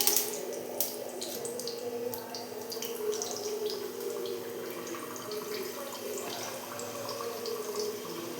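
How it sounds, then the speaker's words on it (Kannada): Drumstick leaf vada patties sizzling as they deep fry in hot oil, a steady close crackle and hiss with bright spattering pops throughout, no voices. "ಇದನ್ನು ಕಾದಿರುವ ಎಣ್ಣೆಗೆ ಹಾಕಿ ಡೀಪ್ ಫ್ರೈ ಮಾಡೋದು"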